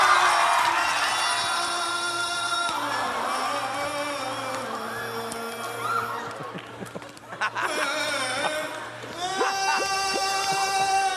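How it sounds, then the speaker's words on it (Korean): A studio audience at a KBS Gag Concert comedy show cheers, whoops and claps, loud and sustained, with a brief dip near the middle before the crowd noise swells again. "박수로 맞아주세요."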